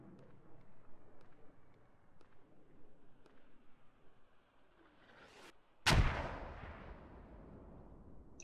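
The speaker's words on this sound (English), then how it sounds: "Those mortars are still piling in." Mortar fire in the military shooter game Squad: low rumbling background with a few faint distant thumps, then one loud, close, sharp blast whose booming tail rolls away for several seconds.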